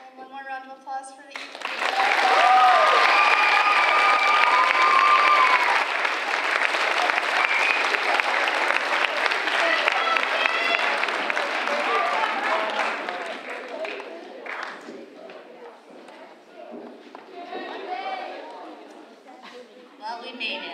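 Audience at a 2024 culminating ceremony breaks into loud, sustained applause that swells quickly, holds for around ten seconds with scattered cheers and chatter, then tapers off gradually.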